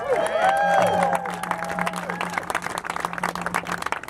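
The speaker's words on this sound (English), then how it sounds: "Give them a great round of applause" Outdoor political rally crowd at the Santa Monica Pier claps and cheers, with whoops and a voice ringing out at first, then scattered hand clapping thinning over a few seconds.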